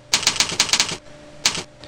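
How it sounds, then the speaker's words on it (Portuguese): Keys on a computer keyboard clatter in a quick burst of about eight close, crisp taps, then a pause and one more pair of strokes. "Você vai digitar"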